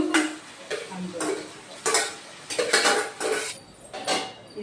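A metal lid knocked and set onto a pot of cooking mutton in a home kitchen, several sharp clinks and clatters spaced over a few seconds, close and moderately loud.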